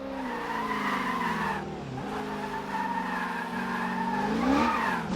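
A road car brakes hard into a hammerhead turn, tires squealing in a loud, wavering, pitch-bending screech layered over engine drone, close and continuous.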